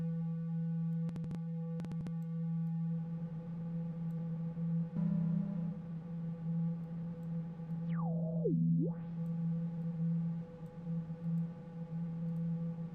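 Synthesizer noise run through effects, a steady droning tone layered with buzzing harmonics, faint clicks early on and a swooping pitch dip near the end, sustained throughout at moderate level.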